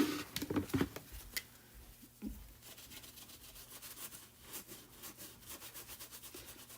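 Chalk being wiped off the glass of a stained glass nativity craft kit, a quiet series of soft rhythmic rubbing swipes, with a few louder knocks near the start.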